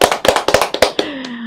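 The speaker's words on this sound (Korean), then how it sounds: "우리 모두를 위해서 박수." A few hands clapping at a church women's mission group live broadcast, a short burst of roughly eight sharp, uneven claps, close and loud, fading into a sustained low tone.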